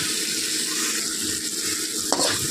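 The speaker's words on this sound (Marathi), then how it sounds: "हे वाटण चांगलं तेलामध्ये परतून घ्यायचं, एकजीव करून घ्यायचं" Green chilli masala paste sautéing in oil in a home kitchen, a dense continuous hiss and sizzle at close range with a brief clatter near the end, no voices.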